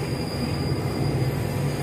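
A Chennai metro train runs along the track, a loud, steady rumble with a roar of wheels and a thin high whine on top, heard from inside throughout the short stretch.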